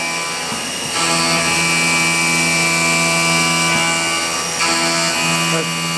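A machine cutting a bearing blank at 5,000 RPM gives a loud, steady, high-pitched whine with a sustained drone beneath it, swelling once as the cut starts and holding through to the end.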